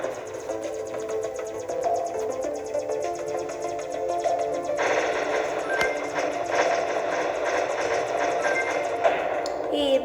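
Rapid gunfire from the video game Alien Shooter rattles in dense bursts throughout, growing louder halfway through, with a person talking over the game sounds.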